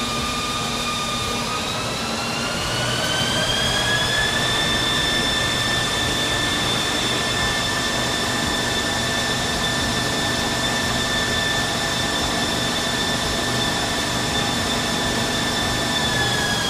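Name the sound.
transmission running on G-TEC dyno road test simulator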